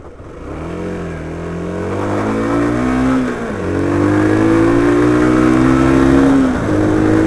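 A Yamaha YBR 125 motorcycle engine accelerating hard through the gears, its pitch rising, dropping at a shift and climbing again, loud and close with no talk.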